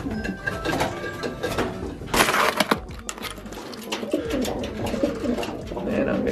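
Pigeons coo inside a breeding cage, their soft calls mixed with busy rustling, scraping and clattering close by throughout.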